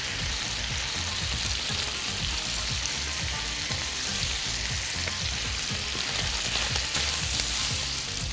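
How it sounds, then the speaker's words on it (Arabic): Strips of bacon crackle and sizzle steadily in a hot pan, a dense close frying hiss with faint stirring scrapes and no voices, at an even level throughout. "بعد ما احمر البيكن كويس قوي قوي قوي هحمر كمان عليه البصل"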